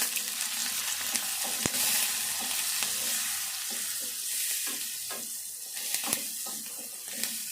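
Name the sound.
onion and green chillies frying and being stirred in a pan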